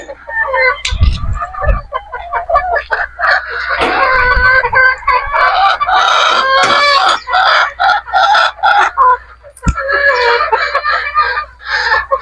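Gamefowl roosters, broodstags and hens in a farm pen crowing loudly and clucking repeatedly, several birds calling close by, with no one speaking.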